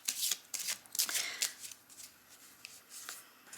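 Oracle path cards are shuffled in a quick run of crisp riffling, papery bursts with short pauses between them, close and fairly quiet, with no one speaking.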